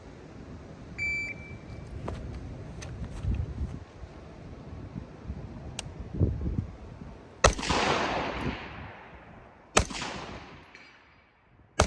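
Two sharp precision rifle shots crack out from a barricade shooting position on an outdoor range, spaced a couple of seconds apart over quiet wind and faint shuffling, with a small beep early on.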